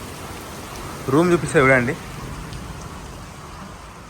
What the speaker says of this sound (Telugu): వర్షం అయితే వదలట్లేదు